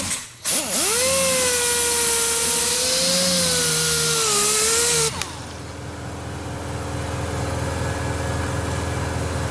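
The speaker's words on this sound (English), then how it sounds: "I love this polisher so much." A car polisher whines loudly and steadily for about five seconds while polishing a Techno Violet BMW E36 M3, its pitch dipping and wavering, then cuts off and leaves a low hum.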